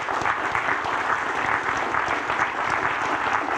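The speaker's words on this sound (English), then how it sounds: "Ladies and gentlemen, could we please have a round of applause for the speakers?" A lecture audience gives sustained applause to the speakers, a steady, full round of clapping from a large room that holds evenly throughout.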